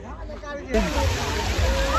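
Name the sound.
hot water splashing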